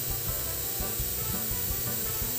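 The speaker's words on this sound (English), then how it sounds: "So to avoid the unwanted splatters, you should first spray from the outside." An airbrush sprays color onto a non-wired sugar sunflower, a steady close hiss running throughout with a low pulsing hum underneath.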